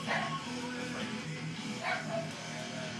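A dog gives short yips and bow-wow barks indoors at close range, a few brief bursts over a steady background hum, with faint human voices in the room.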